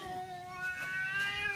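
A cat meows and wails in a drawn-out, tonal cry, fairly close and steady over a faint room background, with no talking.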